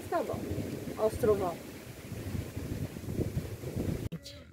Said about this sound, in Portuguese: vento, vento, vento